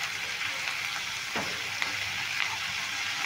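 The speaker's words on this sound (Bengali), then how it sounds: "দেখো এইখানে আমি পেঁয়াজগুলো ভেজে নিচ্ছি, আর সাইডে যে তেলটা আছে এর মধ্যে আমি দিয়ে দিচ্ছি কিছুটা কালো জিরে।" Onions and black cumin seeds fry together in oil, giving a constant close sizzle with a few soft scrapes of stirring.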